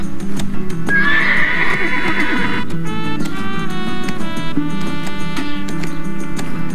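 A horse in the video game Black Desert neighs in a loud, drawn-out whinny, followed by steady clip-clopping hooves over a busy layer of game sound and music.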